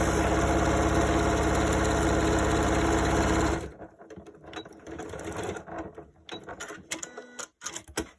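A sewing machine runs steadily for about three and a half seconds, stitching a long straight seam across fabric for reusable dryer sheets, then stops, leaving soft handling clicks and fabric rustle.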